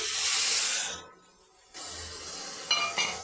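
Water goes into a pan holding semolina and jaggery with a sharp hissing splash. The splash cuts off, and after a short pause a second burst of hiss and sizzle follows with a couple of faint clinks.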